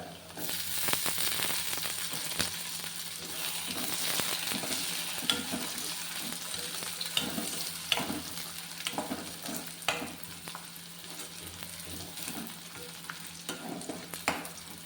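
Green chillies frying with onions in a pan give a continuous soft sizzle broken by light scraping stirs, fairly quiet and with no talking.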